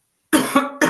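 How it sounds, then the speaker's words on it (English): Three short, close coughs in quick succession from one person, sharp and loud against total silence. "And if coughs come up,"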